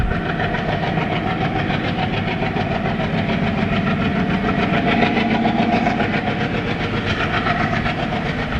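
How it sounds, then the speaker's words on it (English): The Kurla Express, hauled by twin diesel locomotives, rumbles past close by on an Indian Railways line with a continuous loud roar, steady wheel clatter and sustained horn-like tones. "Kurla Express, hauled by Hero Dalco twins."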